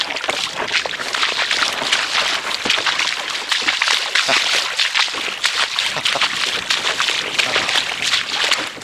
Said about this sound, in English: Just taking advantage of the last of the ebb by running the canoe in a bit of water to save carrying it.